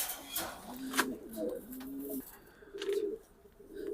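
Racing pigeons in a cage coo in low, repeated rolling calls, with a few sharper chirps and rustles mixed in close by.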